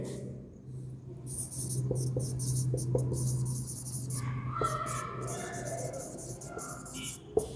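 Pen scratching on paper during a chemistry lesson, short close strokes over a faint steady hum, with some high chirping in the background.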